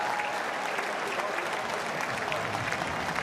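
Crowd at a cricket match in Cardiff applauding steadily throughout, a dense, continuous wash of clapping that fills the stadium without letting up.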